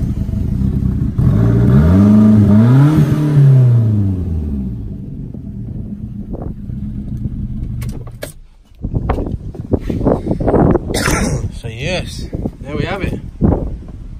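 A Fiat Punto GT engine runs with a deep, loud rumble that rises in revs and settles early on, then drops to a lower idle. Clunks and rattles follow near the end.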